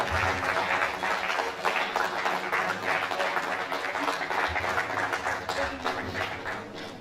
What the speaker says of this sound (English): Round of applause for the Honorable Minister.